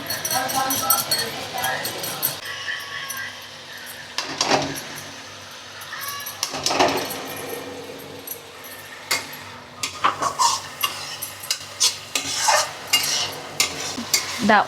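Ginger fries in hot oil with masala, sizzling softly while a spoon scrapes and stirs around the pan in repeated strokes. A voice speaks at times over the cooking.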